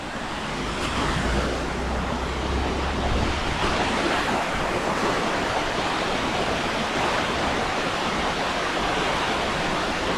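Water from a waterfall rushes down a small stream at Nanu Oya near Nuwara Eliya in Sri Lanka, a loud and steady broadband roar that fills the scene with no voices.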